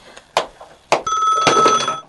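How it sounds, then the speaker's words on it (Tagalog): A telephone rings inside a house, a steady electronic trill beginning about halfway through after a few sharp knocks or thuds, loud and close with no talking. "Ay, sungbatak ti telepono."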